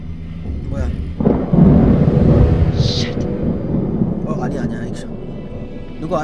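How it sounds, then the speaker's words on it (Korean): Lightning thunder in the narrative thriller game Hidden Agenda, a deep sustained rumble that swells after a second and lingers under the game's ambience, with people talking over it. "아, 번개 친 건가?"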